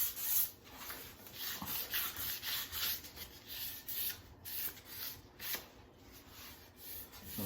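Hand sanding of a brush-on polyurethane finish along wooden bevels and edges, with light back-and-forth rubbing strokes repeating in an uneven rhythm at close range, alone with no talk.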